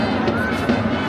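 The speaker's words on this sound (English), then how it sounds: "Crowd on the other side still going on a bit." A football crowd in a stadium at an Australian Olympic qualifying match, a loud, steady wash of distant crowd noise and murmuring with brief swells, with a nearby voice talking over it.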